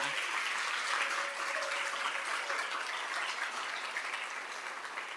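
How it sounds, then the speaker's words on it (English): Sustained audience applause at a women's sports breakfast, a dense, even wash of many hands clapping for the whole stretch, slowly tapering near the end, with no talk over it. "let's give a round of applause to Zella"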